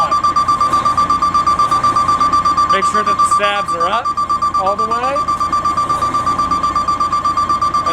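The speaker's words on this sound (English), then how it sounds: "You can hear that alarm come back on again." A fire truck's aerial ladder alarm beeps in fast, steady repetition throughout, loud and close, while someone talks over it about deploying the stabilizers.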